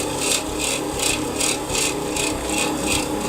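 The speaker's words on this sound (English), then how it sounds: "I do want it to grind the sugar down while it's in there" Sugar being ground in an alchemy-style grinder in the video game Kingdom Come Deliverance 2, a steady rhythmic rasping and scraping, about six even strokes repeating close and loud with no talk.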